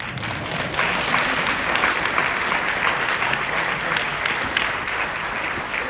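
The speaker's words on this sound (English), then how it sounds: "Y'all should be clapping in a minute" Applause from a church or lecture audience, a dense, steady wash of many hands clapping without pause, loud and close throughout.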